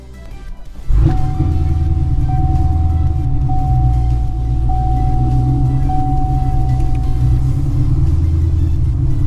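A Chevrolet Camaro engine starts with a sudden burst, then runs at a steady, loud idle with a low rumble and a faint whine, no popping.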